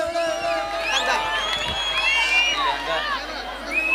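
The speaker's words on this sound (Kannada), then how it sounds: "ಬರ್ಲಿ ಜೋರಾದ ಚಪ್ಪಾಳೆ." An audience at a lively Kannada folk music stage show greets the singers with a sustained roar of cheering, high whoops and shouts. Clapping is not clearly separable within the crowd noise.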